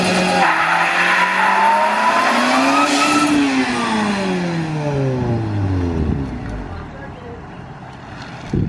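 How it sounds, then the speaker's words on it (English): A supercharged K20Z3 all-wheel-drive car on 27-inch tires launches hard, its engine and supercharger whine sweeping upward loudly before easing off, with tire noise and excited voices underneath. "And damn, that supercharger is stupid loud."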